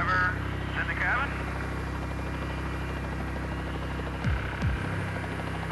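Coast Guard rescue helicopter holding a steady hover at night over water, giving a constant loud engine and rotor hum under voices talking over the radio and in the cabin.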